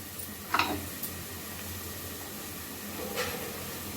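Ginger garlic paste fries in hot oil for a chicken curry, a steady soft sizzle and hiss close by, with a couple of brief louder spits and crackles.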